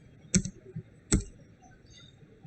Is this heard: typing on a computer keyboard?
yes